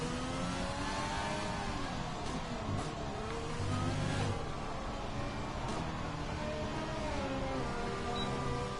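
Formula 1 racing car engine from a video game, a steady high whine with harmonic pitch sweeps as it revs and shifts through gears on a lap of the Australian circuit, loud and continuous with no talk.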